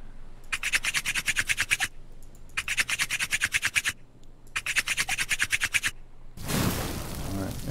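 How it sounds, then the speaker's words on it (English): Rhythmic scraping from fire-making in the survival game Stranded Deep, three long bursts of rapid strokes separated by short pauses, loud and close, ending in a whooshing roar as the fire catches. "So the unedited version of making fire on my channel."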